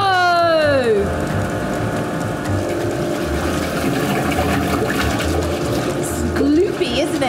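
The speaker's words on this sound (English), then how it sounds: "the disperser blade is spinning really fast and it makes a lot of noise" A disperser blade spins fast in a paint factory mixing powdered pigment with liquid chemicals, a continuous loud churning whir with a steady hum, while a voice talks over it at the start and end.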